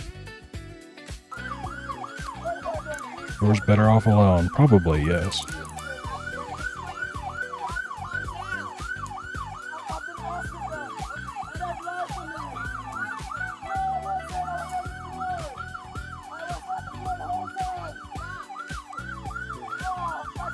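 Police car siren wailing in a steady repeating up-and-down cycle for the whole stretch, with a louder burst early on and brief talk from people nearby.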